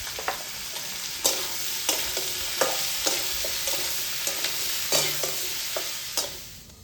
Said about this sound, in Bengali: সবজিগুলো একটু ভাজা হয়ে গেছে